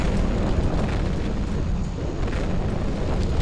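A missile blast hitting a car in the Payback 2 video game: a loud, sustained rumbling explosion that roars steadily for several seconds, dense and close, with no voices over it.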